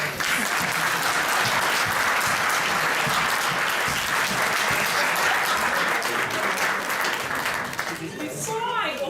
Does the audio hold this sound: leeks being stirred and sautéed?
no